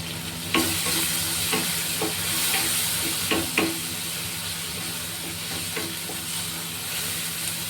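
Masala with chilli powder fries in a pan for chana masala, a continuous close sizzle broken by several sharp spoon scrapes and clacks against the pan, with no talking.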